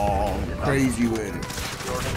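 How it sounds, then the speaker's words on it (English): Gunfire rattles in bursts in a Call of Duty-style online shooter match, fairly loud and close, while a voice talks over it. "Who's shooting at me?"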